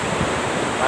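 Strong wind after two days of rain blows steadily across the microphone, a dense, loud rushing roar that stays even for the whole second.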